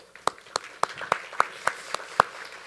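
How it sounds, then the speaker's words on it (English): A small business breakfast gathering, applauding the event sponsor Ideal Wellness: about eight sharp, evenly spaced claps stand out clearly over a quiet room, sounding thin and sparse rather than full. "Certainly want to give a round of applause to today's sponsor, Ideal Wellness"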